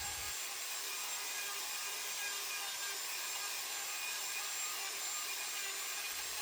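A handheld router on a router plate carves a wooden picture, giving a continuous loud high-pitched whine with a hissing cutting texture and no talk.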